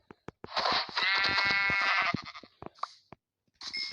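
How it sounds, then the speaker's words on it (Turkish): A Minecraft sheep bleats loudly in the game, a long wavering cry followed by a shorter one, broken up by sharp clicking taps around it. "Biraz da bir tane de koyun burada var."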